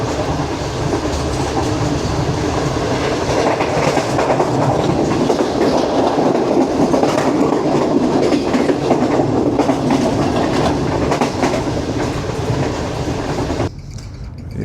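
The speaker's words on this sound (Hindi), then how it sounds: "अभी ट्रेन हमारी गुजर रही है जी साइयांवाला रेलवे स्टेशन से" The Shalimar Express rolls through Saiyanwala railway station, heard from aboard as a loud continuous rumble with rhythmic clickety-clack of wheels on rail joints, dropping sharply near the end.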